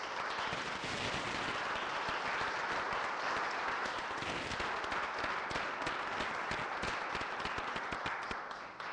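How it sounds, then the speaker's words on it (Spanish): Steady, dense audience applause, many hands clapping loudly and continuously for several seconds with no voices over it. "otro aplauso, por favor"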